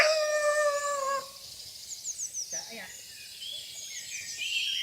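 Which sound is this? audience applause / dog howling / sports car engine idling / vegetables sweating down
dog howling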